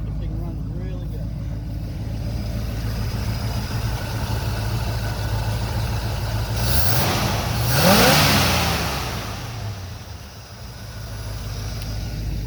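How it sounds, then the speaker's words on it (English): A 1977 Chevy K5 Blazer engine runs at high idle, a loud steady mid-pitched rumble up close that swells briefly as if revved, then settles back, with people talking over it. "Flip the key and it's running. It's high idle."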